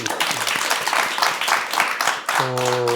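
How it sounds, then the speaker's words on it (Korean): Brief applause from a church gathering rattles quickly and closely for a couple of seconds, then gives way to a voice speaking. "박수 한번 치고"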